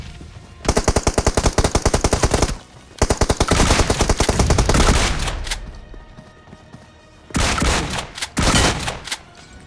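Loud, rapid automatic gunfire from BGMI, including a DBS shotgun, comes in several long bursts separated by short pauses, with a few isolated shots near the end.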